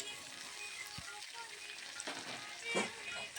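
Potatoes and ridge gourd frying in a pan for alu posto give a quiet, steady sizzle with a few soft stirring scrapes and clinks, heard close but at low volume.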